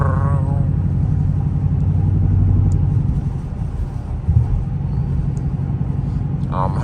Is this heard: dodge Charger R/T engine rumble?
yes